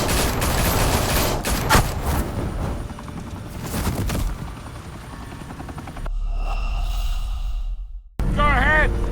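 Gunfire breaks out in the Batman Telltale video game, mixed with a loud helicopter roar and chaotic rattling. The dense noise gives way to a steady rotor drone, and a voice is heard in the middle of it.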